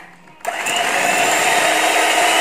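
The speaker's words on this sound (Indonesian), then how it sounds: "Kita kocok dulu, perlahan-lahan aja, dengan kecepatan yang rendah dulu" An electric hand mixer starts up at low speed, beating chocolate peanut marble sponge cake batter, a loud, steady whirring drone that continues without a break after a brief quiet moment.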